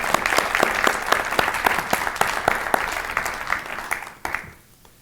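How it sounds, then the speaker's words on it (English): An audience at an annual awards meeting applauds the sponsors, a full, even wash of clapping that carries on for about four seconds before tapering off quickly. "Let's clap for the sponsors."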